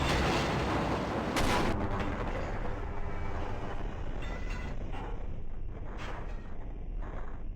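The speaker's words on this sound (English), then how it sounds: "Okay, maybe immediately putting the more powerful train at full speed was a bad idea." A powerful train in the video game Half-Life runs at full speed, a loud, continuous rumbling roar with sharp bangs and rattles scattered through it.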